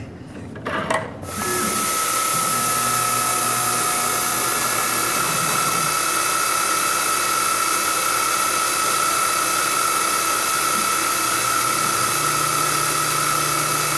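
CNC mill cutting with a corner radius carbide end mill on low-profile edge jaws held in a two-part fixture, a brief clatter and then a loud steady high-pitched spindle whine and cutting tone sustained throughout, no talking.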